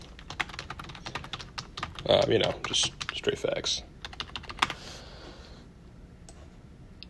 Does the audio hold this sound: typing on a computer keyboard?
yes